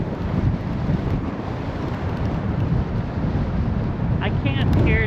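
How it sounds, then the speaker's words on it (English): Strong wind buffeting a microphone while riding a bicycle outdoors on a cold day, a constant loud roar that fills the whole stretch, with a few faint high whistles near the end. "Freezing here with the wind blowing now."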